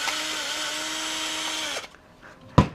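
A power drill backs screws out of a battery-powered handheld vacuum cleaner, a loud steady whine that stops abruptly, followed by a short sharp clunk.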